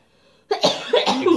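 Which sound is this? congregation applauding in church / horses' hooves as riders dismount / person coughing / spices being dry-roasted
person coughing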